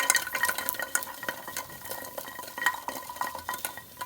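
Kumhrauri frying in hot mustard oil inside a pressure cooker, with a spoon scraping and stirring in steady strokes over a constant sizzle, close and moderately quiet.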